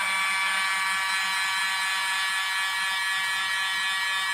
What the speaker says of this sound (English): Putting on the blower.